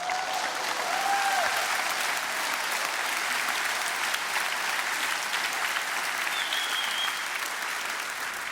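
A large crowd at an esports grand final for StarCraft 2 applauds and cheers continuously, a dense wash of clapping with occasional whistles and shouts, loud and sustained throughout.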